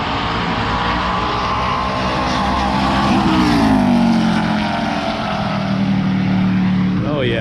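An ARCA stock race car roars past during practice at a racetrack, a loud sustained engine note rising and then falling in pitch as it passes close by, over constant crowd and ambient noise.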